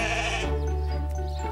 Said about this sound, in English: So, you reckon that the sheep will follow Jess